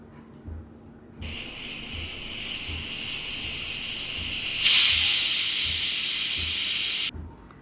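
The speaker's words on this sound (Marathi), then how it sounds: "आता एवढं सगळं टाकून मी याला 4 शिट्ट्या काढणार आहे" A pressure cooker holding vegetables for Mumbai-style pav bhaji lets out one long, loud steam whistle: a hissing jet starts abruptly, grows sharper and stronger partway through, then cuts off, with no talk.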